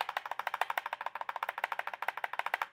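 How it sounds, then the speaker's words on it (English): A K60 keyboard's space bar is tapped rapidly over and over, a steady stream of clacky keystrokes close by. "This is a space bar on the K60."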